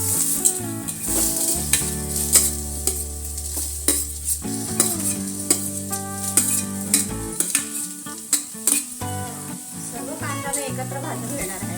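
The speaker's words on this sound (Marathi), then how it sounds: "आता आपण कांदा भाजून घेणार आहोत।" Onion roasting in a pan for Malvani chicken curry, a continuous close sizzle mixed with frequent spatula scrapes and clinks, rhythmic stirring sounds over a low steady hum, no clear talk.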